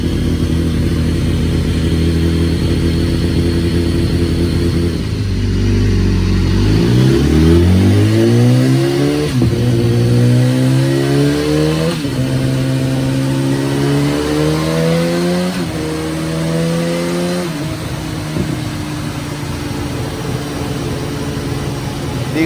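BMW high-performance four-cylinder motorcycle engine on a dyno, loud and close, idling briefly then revving up through repeated rising sweeps with short drops between pulls, sustained roar throughout.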